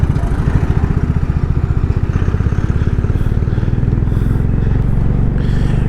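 A heavily loaded motorcycle riding on a potholed road toward Saharanpur in India, its engine a loud, steady close-up thrum with rapid regular firing pulses, some wind and clatter, no voices.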